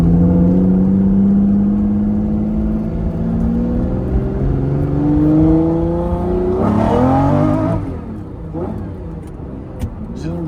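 Lamborghini Diablo V12 on 335 rear tires with no traction control, revving up through the gears in rising sweeps, loud and close from inside the cabin, then a sharp burst and quieter engine after a shift.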